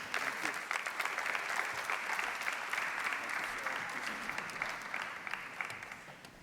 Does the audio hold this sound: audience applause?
yes